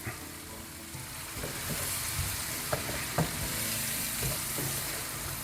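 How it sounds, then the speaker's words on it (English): Onions sauté in melted butter in a pan, giving a soft, steady sizzle with occasional stirring scrapes and a couple of light utensil taps, fairly quiet and close. "I'm going to saute these onions in the butter until they are translucent"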